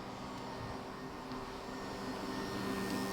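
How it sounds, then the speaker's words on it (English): A steady electric whir with a constant airy rush from a 1.2 kilowatt hairdryer running, holding even and close for a few seconds. "So we hear the hairdryer switching on"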